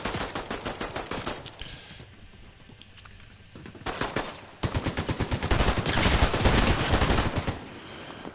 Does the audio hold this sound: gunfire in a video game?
yes